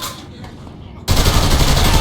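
Loud gunfire from the video game Saints Row: The Third breaks out suddenly after a quieter stretch, a dense rapid burst of shots that continues to the end.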